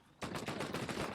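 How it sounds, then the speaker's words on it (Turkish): Rapid automatic gunfire bursts out suddenly and loud, a dense run of repeated shots with no pause in the first-person shooter game Prophet: Code of War. "Ateş altındayız."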